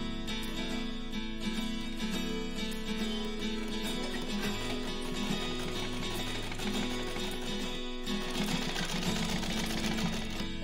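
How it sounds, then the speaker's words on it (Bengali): A domestic sewing machine runs steadily and loudly, its fast mechanical needle rhythm continuous throughout as lace is stitched onto the edge of a homemade blanket, with no voices. "এরপরে লেসটা এখানে লাগিয়ে একবারে এটাকে সেলাই করে নেবে।"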